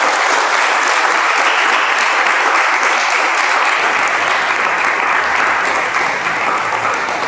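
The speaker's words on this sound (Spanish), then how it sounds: "Ríndale palmas fuertes al Rey." A church congregation claps loudly and steadily during a service, a dense, unbroken wash of many hands close by that fills the whole stretch.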